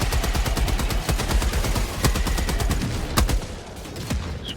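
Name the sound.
gunfire in the video game Helldivers 2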